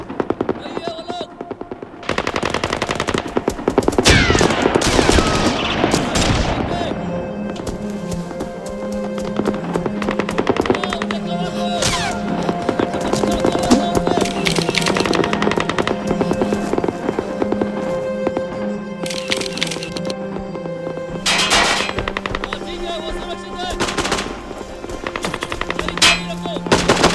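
Movie machine guns fire in long, dense bursts with rapid rattling shots and scattered louder single cracks, sustained loudly through a chaotic battle scene, with voices shouting underneath.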